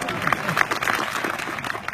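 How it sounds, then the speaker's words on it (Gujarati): An audience at a Gujarati dayro folk gathering claps in a dense, steady burst of applause, loud and close throughout. "એક વખત કલ્પેશભાઈ માટે તાળી પાડો."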